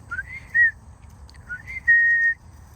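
A person whistles to a horse, two short rising-then-steady notes, the second held longer, alone against a faint low rumble.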